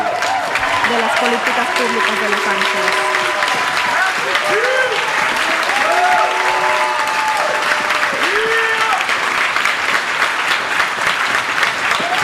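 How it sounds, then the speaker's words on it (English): A crowd claps steadily throughout, dense continuous applause with a few shouts and whoops rising over it, loud and close. "Give yourselves a hand of applause"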